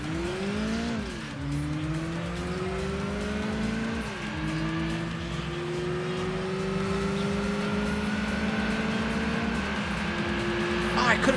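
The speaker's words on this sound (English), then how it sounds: "even a sports muffler can really change the sound of a car" A sports car engine with a sports muffler in Gran Turismo 2, deep, raspy exhaust note revving through gear shifts, pitch climbing and dropping repeatedly, with occasional tire squeal.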